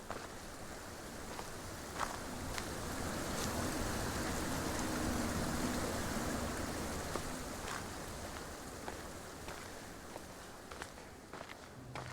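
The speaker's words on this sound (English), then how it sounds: "actually listen to the waterfall at full volume" A waterfall in a video game sound design demo, heard as a steady, dense wash of rushing, splashing water that stays loud and continuous, with occasional sharper splashes on top and no voices.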